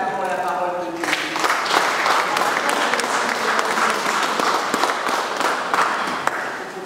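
A church congregation at a funeral mass bursts into applause, a dense sustained clapping that starts abruptly after a brief sung note and continues steadily.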